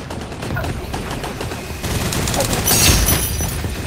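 Rapid automatic gunfire in the shooter game Gun Raiders during a team deathmatch, dense bursts of shots rattling continuously and growing louder toward the end, with faint voices underneath.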